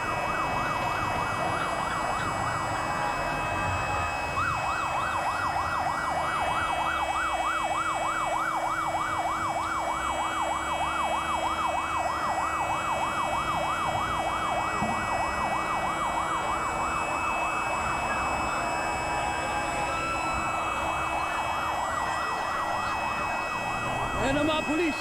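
Police sirens wail continuously through a street riot at a rally in Mendiola, Manila, a steady oscillating emergency tone over crowd noise and occasional voices.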